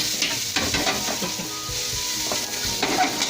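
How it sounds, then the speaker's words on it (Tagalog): Onions, garlic and red bell pepper sautéing in a hot pan for chop suey, a loud continuous sizzle with intermittent scraping and stirring knocks, close by. "Then onions, garlic, and the red bell pepper in. Okay, you should always hear that sound. That means we're going to saute this one."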